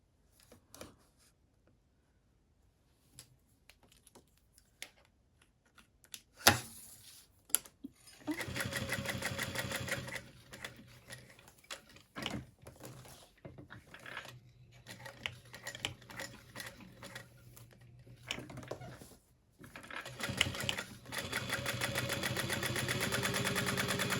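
A sewing machine stitches fabric bag handles, starting after a quiet stretch with short bursts, then running steadily in long close mechanical runs that pause briefly and resume.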